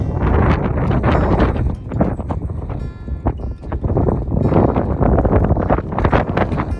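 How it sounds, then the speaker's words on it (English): Strong wind on a cloud-covered hiking trail near Vermont's highpoint buffets the microphone in continuous rough gusts, a loud low rumbling that dominates the whole stretch. "Really windy, you may not be able to hear me."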